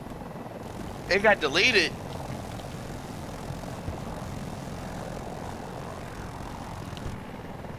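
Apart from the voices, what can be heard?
Super Hind helicopter flying in video game Battlefield 2042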